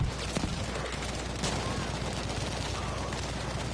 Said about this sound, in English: Nades flying everywhere. Explosions.